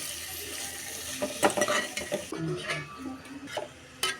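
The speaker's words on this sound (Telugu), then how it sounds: "ఇప్పుడు ఇందులో కట్ చేసి పెట్టుకున్న బీన్స్ ముక్కల్ని వేసుకోవాలి. బాగా కలుపుకోవాలి." Chopped green beans being stirred into hot oil in a pan for a beans and tomato curry: a close scraping and clattering of a spoon against the pan over a steady frying sizzle, with no one speaking.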